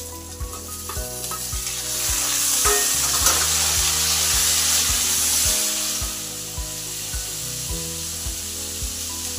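Potatoes drop into a hot pan of oil with two dried red chillies and two bay leaves, sizzling and frying loudly throughout, with occasional sharp knocks of a spatula stirring against the pan.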